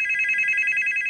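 A telephone rings in a tense indoor drama scene, a bright electronic trill pulsing rapidly and continuously at a steady, fairly loud level with nothing else heard.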